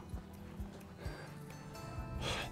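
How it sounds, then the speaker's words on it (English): Horses nearby on a volcano in East Java, Indonesia, with a few dull hoof thuds and soft snorting and breathing sounds against a quiet outdoor background. "these horses are really enjoying here"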